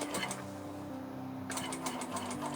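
Sewing machine stitching straight across a tote bag strap, a steady close mechanical whir with a brief pause midway before sewing resumes.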